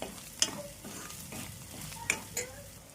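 Onions frying in oil with ginger garlic paste, stirred with a utensil; soft steady sizzle broken by a few sharp scrapes and clinks of metal on the pan, close and fairly quiet, no talking.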